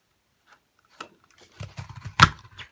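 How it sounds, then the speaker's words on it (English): Scissors snip through paper to cut triangle shapes, giving a few soft, quiet, close crunching cuts that grow into a short cluster toward the end. "So let me go ahead, and cut 2 more."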